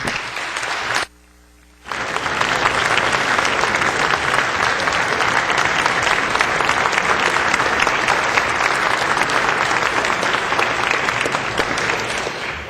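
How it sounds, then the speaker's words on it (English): Lawmakers on a state House floor give a round of applause: loud, steady, dense clapping that fills the chamber for over ten seconds, with one brief break near the start. "I would like to move that we give them a round of applause."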